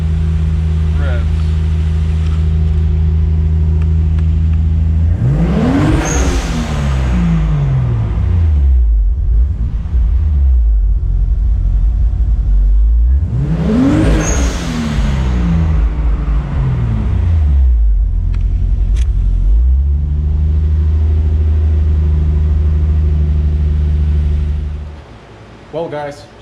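A 7M-GTE engine in a Mk3 Toyota Supra revs up twice, each rev climbing and falling back to a rumbling idle, close and loud.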